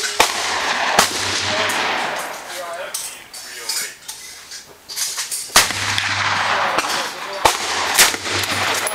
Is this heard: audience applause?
no